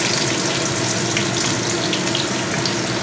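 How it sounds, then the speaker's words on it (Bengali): Chopped onion hits hot oil in a pan with spices over a gas flame, giving a loud, steady sizzle and hiss that holds evenly throughout with no break. "পেঁয়াজ কুচানো দিয়ে দেবো"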